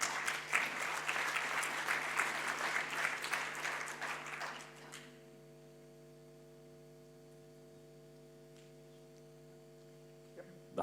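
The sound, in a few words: audience applause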